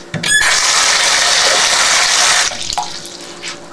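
Water runs steadily from a bathroom tap as hands are washed after using the toilet, a loud continuous gush that starts with a squeak of the handle and cuts off sharply, leaving faint drips and splashes.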